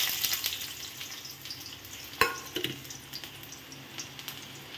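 Chopped onion and green chilli hit hot mustard oil with a dried red chilli in a kadai, giving a moderate, steady sizzle broken by one sharp metallic clatter midway.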